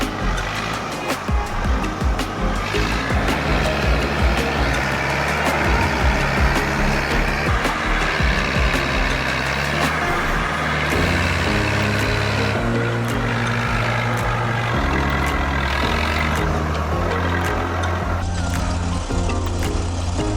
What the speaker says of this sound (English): 558 is struggling to self-rescue with a crane, pulling 12 meters of wood.